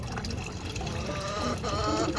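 Water is poured into desi chicken medicine in a cleaned poultry drinker, a dense continuous splashing pour that runs loud and steady throughout with no voices.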